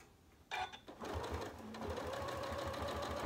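A sewing machine runs steadily through very thick quilt seams after a handle thunk, its close, even mechanical whir settling into a quick regular rhythm.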